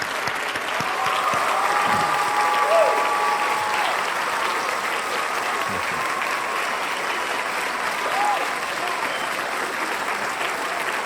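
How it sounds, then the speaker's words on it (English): An audience applauds after a lecture on cosmology: sustained, even clapping from a sizeable indoor crowd, moderately loud, running unbroken for around eleven seconds. "Another round of applause for John Van Auken, please."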